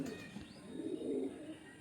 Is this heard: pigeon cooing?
yes